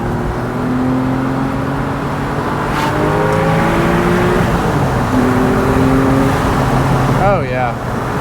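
A Porsche 997 convertible fitted with a lightweight flywheel revs up through the gears with rising engine tones and a rev-matched downshift, loud from inside the cabin with a voice talking over it.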